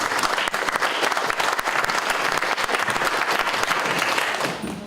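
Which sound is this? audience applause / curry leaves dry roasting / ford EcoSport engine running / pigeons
audience applause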